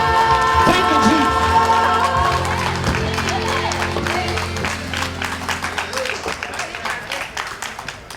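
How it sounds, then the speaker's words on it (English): Audience applause for a choir at a school district address, beginning under the tail of a sustained sung chord and organ, then swelling into dense, loud clapping from a large crowd with voices mixed in. "Can we get another round of applause for that wonderful choir?"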